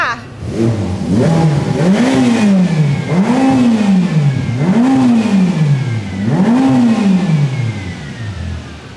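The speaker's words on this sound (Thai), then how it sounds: "เสียงของตัวเจ้าเฟอร์รารี่นะคะจะออกเสียงแหบแบบแหบฟาดไปเลยนะ" A turbocharged Ferrari engine revs four times in a row, each blip rising and falling in a rhythmic, raspy wail, loud and close with no talk over it.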